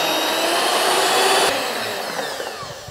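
An electric hand mixer runs at high speed whipping cream into foam, giving a loud, steady whirring whine that dips slightly in pitch partway through.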